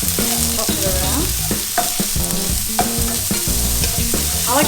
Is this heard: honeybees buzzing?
no